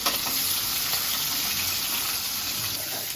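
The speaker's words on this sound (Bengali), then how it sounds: "পেস্টটা ভালো মতো ভাজাবো" Spice paste fries in a pan with a steady, hissing sizzle that stays even and close throughout, with no voices over it.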